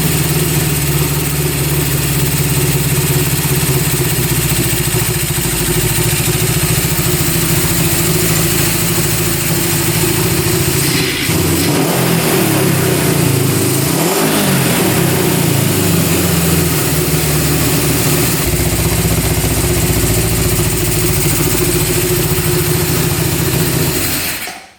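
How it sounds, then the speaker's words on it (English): A Honda CB 750 motorcycle engine, running without its airbox, idles steadily and loudly up close, with a rev change partway through before it settles back to a constant rumble. "We're at 2200 RPM. Bring that idle down a little bit here."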